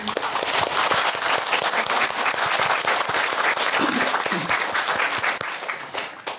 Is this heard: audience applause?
yes